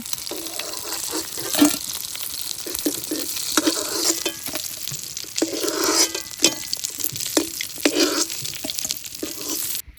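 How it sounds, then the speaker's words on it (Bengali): Dried red chillies and bay leaves dropped into hot oil, with whole cumin added, sizzle and crackle steadily in a pan, with intermittent stirring scrapes and pops throughout. "দিয়ে দিচ্ছি শুকনো মরিচ আর তেজপাতা তেলের ভিতর দিচ্ছি গোটা জিরে"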